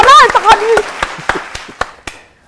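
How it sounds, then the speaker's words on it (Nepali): A handful of sharp, separate claps ring out after a stretch of voice-like sound, slowing and fading to near silence. "मेरो छिमेकीले सुरुमै चाहिने जोरदार ताली बजाइदिनु पऱ्यो"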